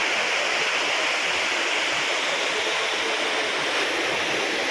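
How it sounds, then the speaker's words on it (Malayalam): Water pours continuously at Vadattupara waterfall near Kothamangalam, running low after scant rain, in a constant broadband rush that stays loud and near with no speech. "ഇവിടെ വെള്ളച്ചാട്ടത്തിൻ്റെ മറ്റൊരു ഭാഗങ്ങളൊക്കെയാണ്"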